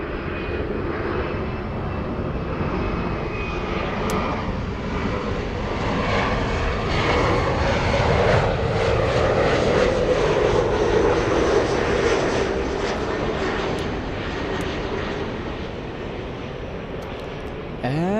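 A Finnair airliner taking off from a runway at LAX, its engines roaring steadily and swelling slightly in the middle before easing, a sustained broadband rumble throughout.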